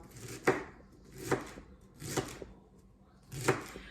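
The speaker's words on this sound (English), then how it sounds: "I'm gonna use the big knife now." Four crisp knife strikes on a cutting board, spaced about a second apart, as a big knife chops celery for a vegan green bean soup; moderately close, with no talking.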